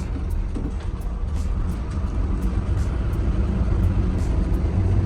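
City buses, including a double-decker, rumble along as they head back to the garage, a steady loud engine drone with road noise and brief higher hisses recurring throughout.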